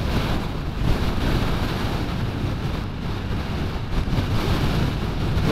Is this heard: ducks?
no